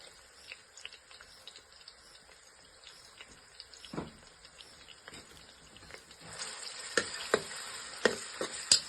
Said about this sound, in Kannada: ಇದನ್ನು ಮಿಕ್ಸ್ ಮಾಡಿ ಎಣ್ಣೆಯಲ್ಲಿ ಸ್ವಲ್ಪ ಫ್ರೈ ಮಾಡಿ